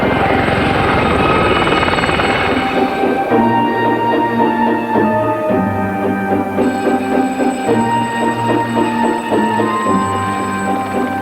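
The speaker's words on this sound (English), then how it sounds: "this is it, learning to fly the helicopters." A Gazelle helicopter's rotor and turbine drone steadily close by, loud and continuous, with a whining engine tone holding throughout.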